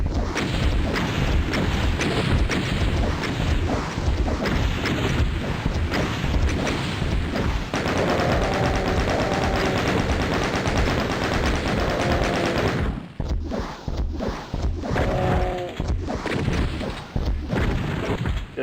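Gunfire blasting at a Cyberdemon in Doom, a loud, continuous stream of rapid shots and booming impacts, with brief pauses and sustained noise throughout.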